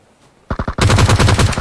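Gunfire in the PUBG Mobile game: three quick close shots, then a rapid automatic burst of about eight loud, evenly spaced rounds.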